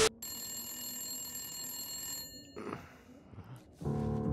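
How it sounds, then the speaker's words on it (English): A telephone rings in the video game The Long Dark, a steady electronic bell tone holding for about two seconds, then a short noisy gap and a louder burst of ringing near the end. "My phone's ringing."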